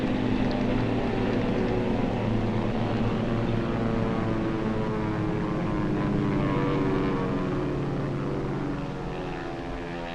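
Propeller-driven warplanes drone steadily overhead at night during a 1943-era air raid, a dense, continuous engine roar that holds loud throughout and eases slightly toward the end, with no voices.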